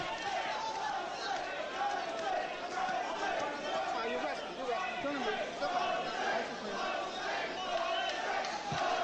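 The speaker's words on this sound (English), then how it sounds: "Crowd taking up a chant of Jose." A boxing arena crowd roars and chants the name Jose in the eighth round, a dense continuous wash of many voices at steady loudness, with no clear solo voice over it.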